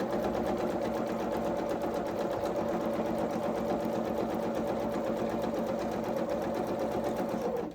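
A sewing machine runs a zigzag stitch along coverall fabric for a small doll's mechanic outfit, giving a steady, close mechanical whirr with a fast stitching rhythm that continues without pause and stops at the very end. No one speaks.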